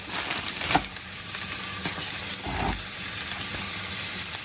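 Pork frying in a pan with the fat crisping at the edges, a steady soft sizzle carrying through with a couple of louder stirring clatters close by.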